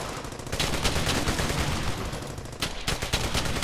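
Gunfire from the World War II shooter game Brothers In Arms: Hell's Highway, with rapid, loud bursts of rifle and machine-gun shots that keep going with a short gap near the end, and no voices.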